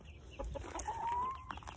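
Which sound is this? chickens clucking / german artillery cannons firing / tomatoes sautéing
chickens clucking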